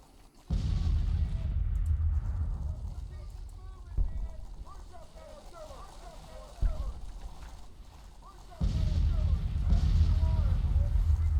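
Deep artillery booms in the Grand Tactician: The Civil War video game, several heavy blasts a few seconds apart, each followed by a long low rumble over a continuous battlefield din.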